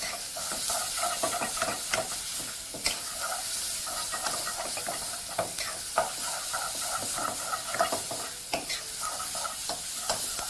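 Onions fry in a pan with a steady, bright sizzle and hiss, punctuated by frequent sharp scrapes and taps as they are stirred, with no talking.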